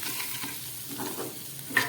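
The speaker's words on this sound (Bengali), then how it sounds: "এবার ভেজে রাখা পনির আর আলুটা আমি এর মধ্যে দিয়ে দিলাম।" Fried paneer and potato being stirred into a spiced pan, giving a steady close sizzle of frying with soft scraping stirs and one sharper clink near the end, no voices.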